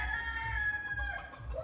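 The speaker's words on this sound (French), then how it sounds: "Il y a au moins 4 coqs ici qui passent leur temps" Several roosters crow close by at a home in Lubumbashi, Congo, their long harmonic calls carrying steadily through the short stretch over a low background rumble.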